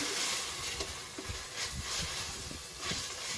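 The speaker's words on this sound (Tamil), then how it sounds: "இப்போ நம்ம ஒரு 1/4 கப் தயிர் இதோட ஆட் பண்ணிக்கலாம். இதை நல்லா கலந்து விட்டுக்கலாம்." Yogurt being stirred into Ambur-style mutton biryani masala in a pressure cooker: steady hissing sizzle with repeated scraping and stirring strokes against the pot, close and continuous, no speech.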